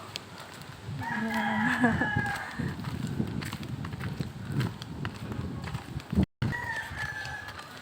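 Chickens at a poultry farm call out in loud squawking bursts twice, over a steady rumbling background and faint voices.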